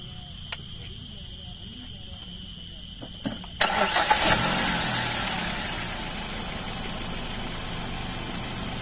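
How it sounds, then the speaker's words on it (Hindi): A Hyundai i20 hatchback with its bonnet open cranks and starts after a few faint clicks, then settles into a low, even idle heard close and steady; a voice speaks briefly. "गाड़ी के इंजन की नॉइस देख लो, बिल्कुल कम नॉइस है, जैसे कि बोनेट भी खुला है गाड़ी का।"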